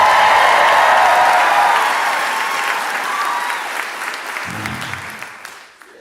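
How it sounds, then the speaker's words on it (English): Applause from a stand-up comedy audience in Dallas, Texas, loud and dense at the start, then easing a little as the clapping continues for the whole stretch, with a few scattered whoops in the crowd. "Dallas, Texas, please make some noise for Josh Johnson."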